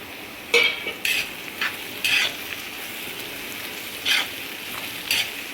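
Sliced onions go into carrot and capsicum frying on medium heat for a bitter gourd dish, giving a steady sizzle broken by about six short scraping stirs at irregular intervals. The sounds are close, and no one talks.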